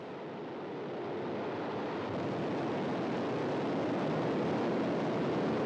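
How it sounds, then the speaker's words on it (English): Rocket booster ignition at the launch of a new International Space Station crew: a broad, steady roar that builds slightly over the first seconds and then holds constant, heard from a distance with no voices. "The booster is beginning to fire. We have preliminary booster ignition."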